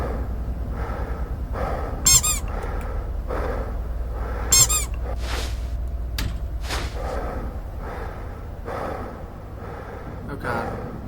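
Two sharp, bright squeaks sound about two seconds apart in a Five Nights at Freddy's fan game set in Fazbear Entertainment storage, heard over a steady low droning ambience with soft breathy noises.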